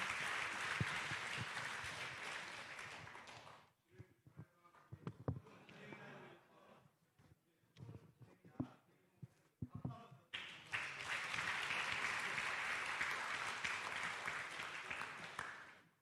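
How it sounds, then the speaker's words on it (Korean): An assembly hall audience at a church general assembly candidates' public hearing in Korea bursts into loud, dense applause. It drops to a quieter stretch of scattered claps and voices, then swells into a second strong round of clapping before ending. "여러분 힘차게 박수 한번 해주시면 마무리하도록 하겠습니다"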